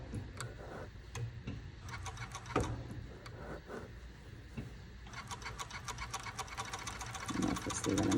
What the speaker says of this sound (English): I stitch a little bit, and then I will move my pocket bag, lift up the foot to move my pocket bag, then stitch a little bit